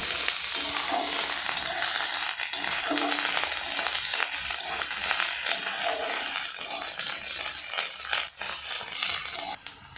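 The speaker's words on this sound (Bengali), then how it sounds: "এবার আমরা এর সাথে 2 চামচ রসুন বাটা দিয়ে দিচ্ছি। হালকা একটু নেড়ে নেব" Two spoons of garlic paste fry in a pan for an egg curry, giving a loud, steady sizzle with scraping strokes and scattered clacks of the spoon stirring through it, and no voices.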